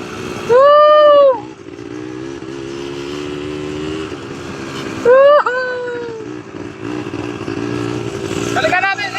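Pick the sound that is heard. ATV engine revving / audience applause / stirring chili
ATV engine revving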